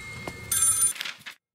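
A telephone rings inside the horror video game Maid of Sker: a bright, electronic bell tone trilling for about half a second, then fading into softer room sounds before silence.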